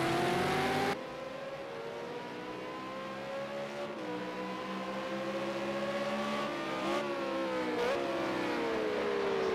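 Several V8 Supercars race bumper to bumper at Bathurst in a racing video game, engines droning steadily with rising and falling pitch as they shift gears, loud and close throughout with no talking.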